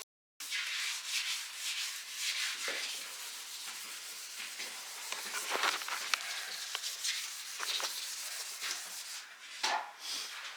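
Sandpaper of 1000 grit rubs down a final coat of primer on a Datsun 280Z body panel, a steady close scratchy hiss of repeated strokes running continuously with no talk.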